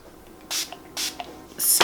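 Three short hissing bursts of makeup setting spray from a pump bottle, close by, spaced about half a second apart in a quiet room.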